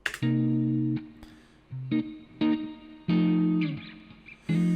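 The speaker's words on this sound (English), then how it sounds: "So that's the guitar playing. You know, we've got it running through amplitude right now for just some basic distortion." A jazz guitar sample run through basic distortion, demonstrated with the Tritik Krush VST plugin: sustained, buzzy chords ring out in several phrases separated by brief gaps, loud and close with no talking.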